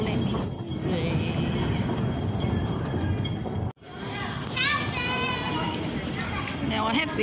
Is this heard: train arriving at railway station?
yes